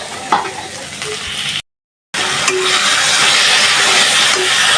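Spices frying in oil while being stirred in a pan for a dried kachki fish dish with stems, a close, bright sizzle with scraping strokes, briefly cut off by a moment of silence before resuming louder.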